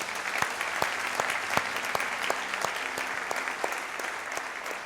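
A church congregation applauds steadily, a dense and even wash of clapping that carries on for the whole stretch with no voices standing out.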